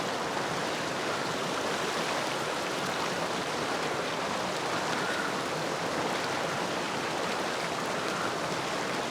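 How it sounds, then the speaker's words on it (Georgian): A cold river rushing steadily nearby, a dense, even broadband roar of flowing water with no pauses and no voices. "ცივი მდინარე!"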